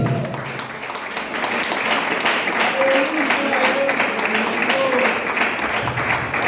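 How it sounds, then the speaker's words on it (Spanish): A church congregation applauding during a Spanish-language evening sermon, dense sustained clapping mixed with voices and crowd murmur, fairly loud and close throughout. "Aplaudan que viven esta noche."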